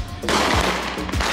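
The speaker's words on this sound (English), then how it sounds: "We have a ton of fireworks, so we're just gonna pop fireworks all night." Fireworks going off at a New Year's Eve party, a loud close sharp bang followed by crackling bursts and another report within a second.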